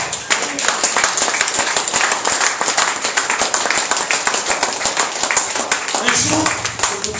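A church congregation applauds during a Sunday service, a steady wash of dense clapping that holds at even volume throughout, with voices mixed in.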